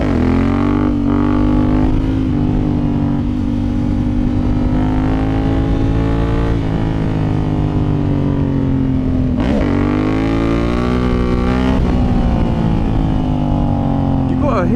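Motorcycle engine on a ride on a new tyre, heard close and loud as a steady droning hum with slight rises and dips in revs, a couple of brief shifts or throttle blips partway through.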